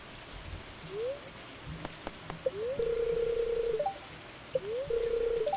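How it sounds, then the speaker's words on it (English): Rain in the Stardew Valley video game: a steady hiss of falling rain with brief tonal chimes and rising blips from the game breaking through at intervals. "It sounds like it's raining."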